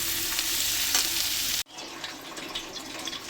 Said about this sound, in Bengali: এবার এর মধ্যে কাজু আর চালমগজটা দিয়ে দিলাম। এটাও একটুখানি ভাজবো